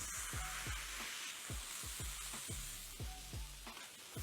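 Beef burger patties with sliced jalapenos sear on a hot surface, a steady close sizzle running throughout under a series of regular low thumps.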